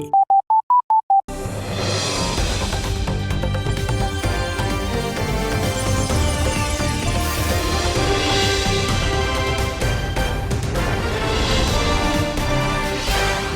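Telephone dial tone in an SLT home phone advert: a few short, evenly spaced beeps at the start, then cut off as loud music takes over for the rest.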